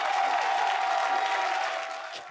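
A live esports crowd at a League of Legends NA LCS Summer 2017 match cheering and applauding: a dense, loud, sustained roar that fades slightly at the end.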